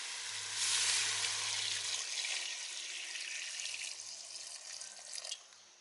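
Water pours and splashes into a cooking pot of Thai mustard greens curry being made outdoors in a garden, a loud rushing stream that slowly tapers off with a final splash.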